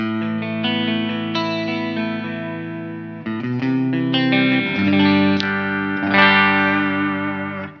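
A dry, direct electric guitar through a Blackstar Dept 10 Dual Distortion plays sustained low chords, ringing out and changing every few seconds, loud and unprocessed, with no talking.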